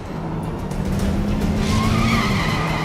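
A car speeds along with its tires skidding and squealing in a sustained, loud rush of engine and road noise that swells slightly partway through.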